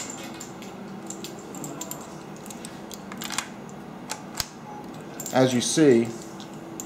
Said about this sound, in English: you just drop it in and you go back and forth with the lever